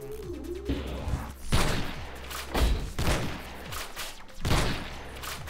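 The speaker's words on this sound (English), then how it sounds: "I fucking love this gun." Bursts of gunfire from a gun in the retro 2D roguelike Super Mutant Alien Assault crack out in four or five punchy clusters over looping game music, each shot heavy and close.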